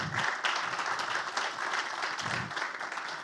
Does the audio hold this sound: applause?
yes